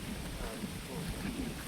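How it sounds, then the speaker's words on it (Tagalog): Steady rain falling outdoors, a dense, continuous hiss that fills the whole moment at an even level, with no voices clearly heard. "ulan guys."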